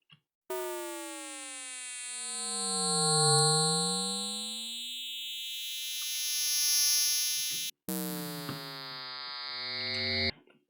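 A bright, buzzy additive synthesizer tone on a ping-pong loop sweeps slowly up and down in pitch, rich with overtones, then cuts briefly before a harsher, shifting layer returns alone.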